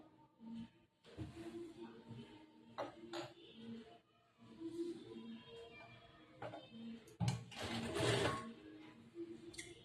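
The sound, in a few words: sewing machine stitching a chudidar top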